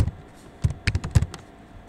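Keys tapped on a computer keyboard while entering login details, a short burst of several clicks in an uneven rhythm after a quiet start, close and moderately loud, with no one speaking.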